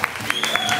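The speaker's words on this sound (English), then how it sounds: "Give them a big applause." An audience at a Founder's Day rock challenge event at Hard Rock Penang gives a short burst of clapping, close and lively, with a voice mixed into it.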